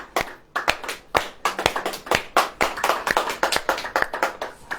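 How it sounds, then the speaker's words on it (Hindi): An audience clapping hands in a church gathering, a steady run of sharp, fairly loud claps with an uneven, ragged rhythm, with no talk over it. "ऐसे ताली ऐसे बजती है"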